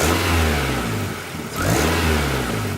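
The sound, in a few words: car engine revving as throttle plate is opened quickly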